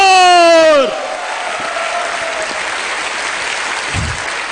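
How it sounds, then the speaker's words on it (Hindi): Audience at a function claps for a guru, a dense sustained round of applause after a brief musical tone fades, steady and loud to the end. "गुरु जी के लिए एक बार दमदार ताली होनी चाहिए"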